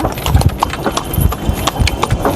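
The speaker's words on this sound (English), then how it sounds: "there's another horse cart passing" A horse-drawn cart passes along a former railway line turned road in Guyana, its hooves clip-clopping in a steady, fairly close rhythm against light street noise.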